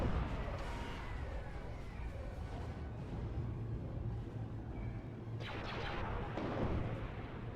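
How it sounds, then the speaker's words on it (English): Heavy, rumbling booms and blasts of explosions in a Star Wars real-time strategy game roll continuously under dense battle noise, with a sharper crashing burst near the end. "See how massive those explosions are."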